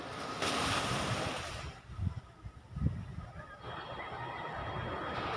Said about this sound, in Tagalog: ang hampas ng alon